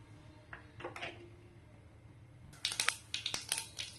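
Mustard seeds hitting hot oil for tempering start crackling and popping with a run of sharp, bright bursts after a few soft clinks of utensils, fairly close and moderately loud.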